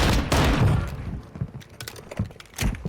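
Gunfire in the video game Warzone 2.0, a loud burst of rapid shots up close followed by scattered single cracks and thuds.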